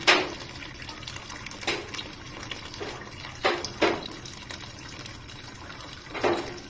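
Previously boiled water poured into a cooking pot for arroz caldo, coming in several separate splashing pours, each a short gush with quieter gaps between, close to the microphone.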